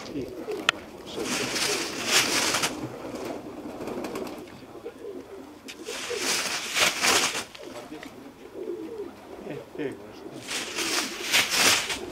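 Pigeons of a show-pigeon club flock take off and scatter in flight, with bursts of wing flapping swelling three times over a steady bed of soft cooing.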